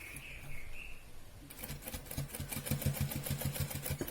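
A sewing machine stitches fabric for a baby dress, starting after a short quiet stretch with a faint bird-like chirp, then running in a close, rapid, rhythmic stitching patter.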